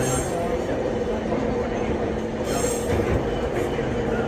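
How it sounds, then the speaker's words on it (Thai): Steady rumble and rattle of a moving train carriage, with a constant roar and faint squeal of wheels throughout. "อยู่รถไฟ"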